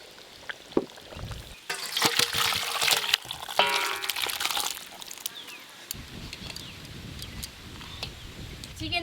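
Simmering chicken curry gravy with pre-boiled meat and potatoes is poured out, giving a gushing, splashing liquid pour of a few seconds with clattering knocks, then quieter handling noises close by.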